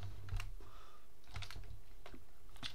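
Typing on a computer keyboard, with irregular clusters of close key clacks and a few heavier presses over a low room hum, and no talk.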